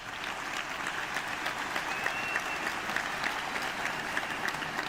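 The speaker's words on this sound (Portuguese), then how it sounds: "uma salva de palmas para vocês." A conference audience at a DDC Samsys 2025 talk gives steady, sustained applause, a dense even patter of many hands that holds at one level throughout with no speech over it.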